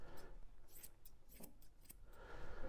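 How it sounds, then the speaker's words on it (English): Scissors trimming the coat of an English Cocker Spaniel during grooming, a series of quick crisp snips in short irregular bursts, close and fairly quiet. "I'm going to trim this right around"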